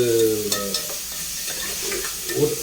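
Tomatoes sautéed and stirred in a pan for a tamarind curry with chickpeas and peanuts: a continuous close sizzle with scraping stirring strokes throughout.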